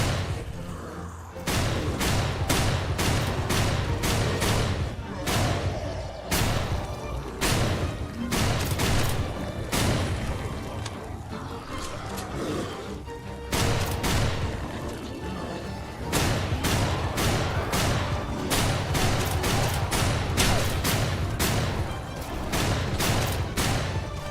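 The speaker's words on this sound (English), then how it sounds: "the game threw an amazing shotgun at me" Shotgun fire in the zombie survival game HumanitZ: loud, sharp blasts repeating in quick bursts, with short pauses between groups of shots and pump or reload clatter in between, and no talking.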